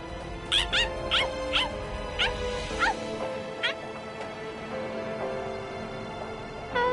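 A dog from the video game Bleach Rebirth of Souls, giving a few short yips and high whimpering squeaks in the first half, then quieter whines over a steady game background tone.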